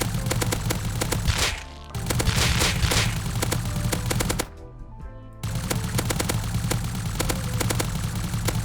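Rapid sustained bursts of custom SMG fire in the survival game Rust, loud and continuous with a couple of brief pauses between sprays.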